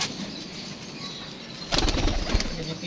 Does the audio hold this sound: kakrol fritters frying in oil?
no